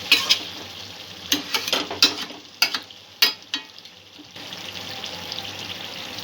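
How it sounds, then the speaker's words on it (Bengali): Sugar is stirred into a coconut-milk chicken curry in a pan, with a spoon scraping and clacking in short bursts over a soft, continuous simmering hiss. "একটু নাড়াচাড়া করে দেবো চিনিটা দিয়ে"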